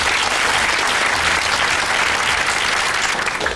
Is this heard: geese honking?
no